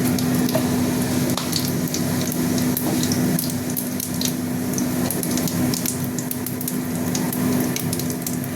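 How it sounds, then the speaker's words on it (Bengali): Dried red chillies and cumin seeds tempering in hot oil in a pan, a steady close crackle with a faint sputter and a low constant hum underneath, no voices. "গরম দুটো শুকনো লঙ্কা আর একটু জিরে ফোড়ন দিয়ে দিলাম।"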